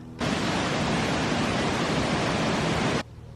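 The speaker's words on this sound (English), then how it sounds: "When I got to the bridge, all you could hear was the water." Steady, loud broadband rush of water flowing under a bridge in Kennall Vale woodland at night, unbroken for about three seconds, like a strong current, with no voices.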